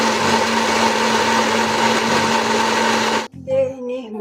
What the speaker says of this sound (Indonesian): mari kita blend, terus kita haluskan